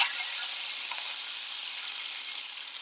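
Curry leaves fry in hot oil for a Tamil brinjal kuzhambu, giving a steady close sizzle that fades slightly over a few seconds, heard alone without talk.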